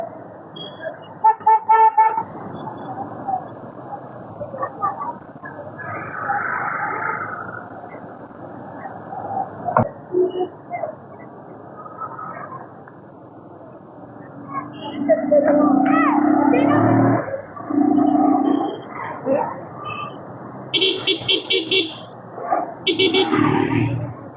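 Road traffic on a motorbike ride from Bhandup to Ambernath, with a steady engine and traffic rumble under frequent talk, and several short, sharp horn toots near the end.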